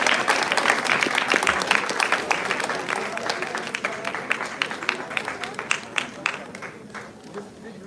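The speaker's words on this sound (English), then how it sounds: "Audience, please give him a big round of applause." An audience applauds a guest called up on stage at a recruiters' panel discussion: dense, sustained clapping from a large crowd that fills the whole stretch and gradually thins and softens toward the end.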